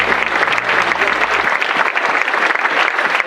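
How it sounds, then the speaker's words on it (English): An audience applauds executives on stage at a tech conference, a dense, steady wash of clapping from a large crowd that holds evenly for the whole stretch with no talk over it. "Let's give them some applause."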